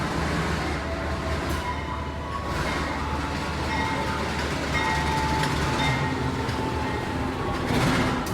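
Lodaya passenger train moving through Yogyakarta's main station, a steady loud rumble of wagons rolling on rails with faint clatter throughout and no voices.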